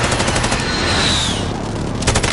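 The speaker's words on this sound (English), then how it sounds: "AK-47." AK-47 firing in full auto during an online video game match, a dense continuous burst of loud rapid shots with booming reports filling the whole moment, close and dominant, with no speech over it.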